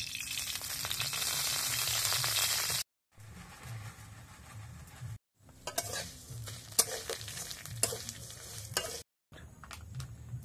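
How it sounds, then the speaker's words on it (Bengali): Vermicelli (semai) frying in white oil in a wok, a steady close sizzle with stirring scrapes, broken by brief silent cuts between takes. "এবার আমি সামাইটাকে ভেজে নেব তেলের মধ্যে।"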